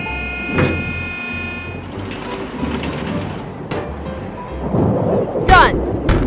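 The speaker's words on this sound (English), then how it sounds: "Thunder and lightning ahead!" Thunderstorm near a riverside dock, thunder rumbling low and long with rain hiss, growing louder toward the end and joined by a brief high squeal.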